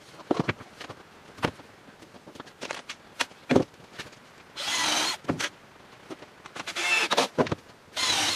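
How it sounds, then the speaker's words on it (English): A power drill drives screws through an existing faceplate into a wooden workbench leg, heard as short bursts of whirring with louder sustained runs near the middle and end, separated by clunks and handling knocks. "just by screwing it to the existing faceplate of this one and through this one"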